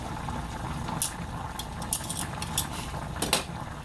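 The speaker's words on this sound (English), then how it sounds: "the rice is cooking. You can hear it bubbling." A pot of white rice bubbling on the stove as it cooks, a soft steady simmer with light clinks and ticks from the pot and utensils scattered throughout.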